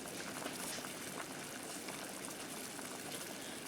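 A pot of bone broth boils on the stove with a steady, dense bubbling and hissing roar, close and continuous with no talk.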